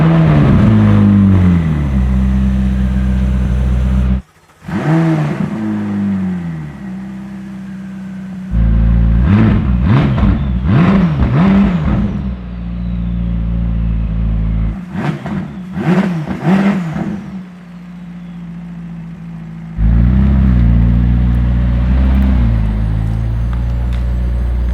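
A McLaren 600LT engine revs and accelerates on the road in loud, rising bursts, with sharp gear-change dips between pulls and a steady drone in the quieter gaps.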